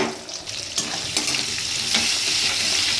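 Chopped onions sizzle and crackle in hot oil in a wok already tempered with nigella seeds, cooking for a dried-fish vegetable curry; a steady close frying hiss with a few brief stir clatters.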